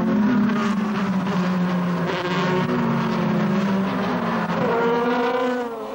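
DTM race cars from the 2002 season on slick tyres sweep past at a circuit, engines howling in rising and falling pitch as they go by, close and loud, one fading away at the end.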